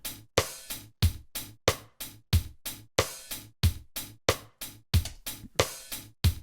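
Programmed drum pattern from an Ableton drum rack, steady kick and snare hits with bright hi-hats and a sustained open hi-hat, looping in a tight regular rhythm, loud and close, no voices.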